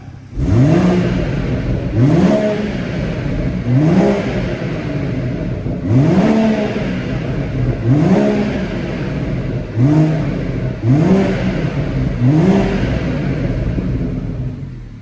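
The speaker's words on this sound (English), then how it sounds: "Now we'll give it a little bit of a blip now." A BMW M140i Shadow Edition with a burbling exhaust revs in about eight repeated blips spaced roughly two seconds apart. Each rise and fall is loud and close, and no voices are heard.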